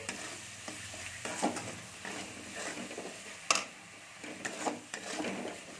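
A tomato and spice masala sautéing in a pan for an okra and poppy seed dish, with a soft continuous sizzle broken by repeated scraping stirs, close and fairly quiet.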